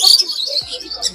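Small birds at the bird and pigeon section of a pet market in Serampore, Kolkata, giving close, bright chirps and tweets in quick bursts, with a brief low thump partway through.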